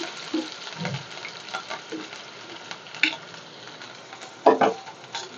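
Onions and curry leaves fry in a pan for a chicken liver gravy, with a steady low sizzle, occasional stirring scrapes and a few louder clatters near the end.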